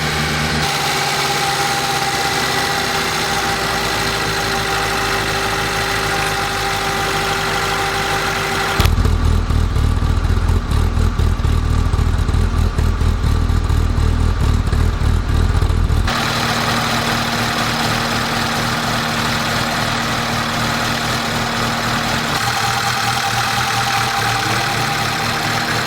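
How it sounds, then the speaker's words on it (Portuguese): A Fiat Uno engine idles steadily as its speed is brought down, with a continuous close mechanical drone that turns rougher and deeper for several seconds in the middle, then settles back to an even idle. "antes de medir o ponto, eu baixei a rotação do motor"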